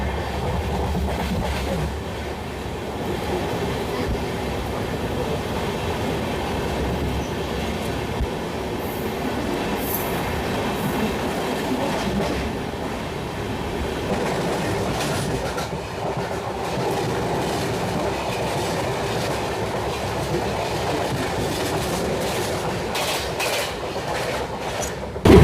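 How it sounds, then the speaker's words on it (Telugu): Express trains crossing at Kondapochampalli railway station, including the Sainagar Shirdi to Visakhapatnam train, a steady loud rumble of rolling carriages and wheel clatter sustained throughout with no talk. "ఇప్పుడు మనకి క్రాసింగ్ అయిన ట్రైను సాయినగర్ షిరిడి నుంచి విశాఖపట్నం వెళ్ళే ట్రైను"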